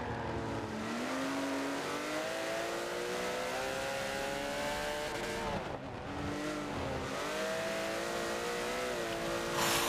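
Race car engines scream continuously at high revs around the Spa-Francorchamps circuit in a 24-hour sim race, pitch rising and dipping through gear changes with a brief lift near the midpoint, loud and close.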